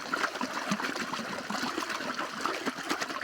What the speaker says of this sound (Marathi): इतकं स्पीड आहे पाण्याला हा पाणी चाललेला आहे